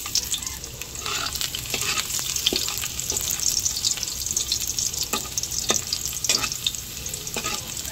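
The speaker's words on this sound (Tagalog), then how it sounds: "ako po ay nagigisa na po ng bawang" Garlic sautés in a hot pan with steady, close sizzling and frying, broken by the sharp clinks and scrapes of stirring, with no one talking.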